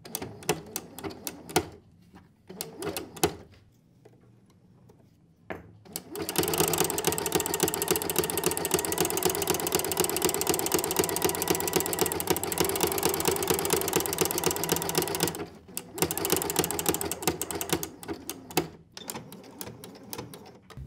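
A sewing machine fitted with a flower stitch foot runs in a loud, continuous whirring stretch of about nine seconds, then a shorter burst after a brief pause, with quieter clicks and handling noises before it starts.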